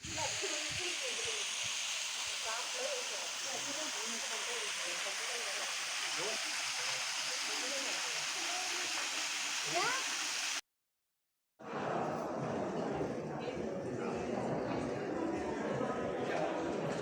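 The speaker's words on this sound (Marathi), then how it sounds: "पाठीमागे एक असा झरा आहे पाण्याचा." A natural spring stream trickles and flows steadily behind a temple at Rajapur, Maharashtra, a continuous close rushing wash that drops out for a moment before returning.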